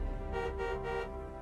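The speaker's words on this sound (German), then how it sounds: "Die Kollegen hupen auch mit." Several car horns honk together in a street, a sustained blaring tone with a few pulses, heard from inside or near a vehicle at moderate level.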